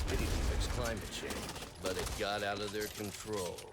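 Rapid gunfire from Back 4 Blood, with sharp shots cutting through loud game action while someone speaks over and between the bursts.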